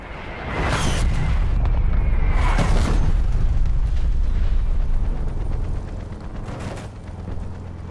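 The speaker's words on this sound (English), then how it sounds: "Artillery inbound." Booming artillery strike blasts in an online first-person shooter, two heavy broadband bursts close together near the start and another toward the end over a constant loud rumbling din.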